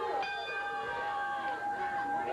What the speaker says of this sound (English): Bell sounds as Rip Rogers, the Hustler, removes the robes, steps through the ropes